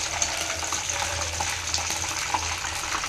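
Chicken frying in a pan with whole curry leaf sprigs, a steady close sizzle and crackle running throughout with a low hum underneath.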